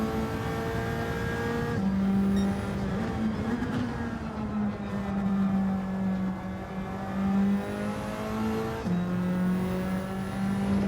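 A race car in Gran Turismo 7 revs hard through its gears, a loud, close engine whine climbing and dropping with several shifts and a brief tyre squeal, no talking.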